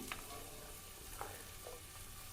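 Cumin, mustard seeds and onion fry in hot oil in a pan, giving a faint, steady low sizzle with a few soft pops and spoon scrapes, no voices.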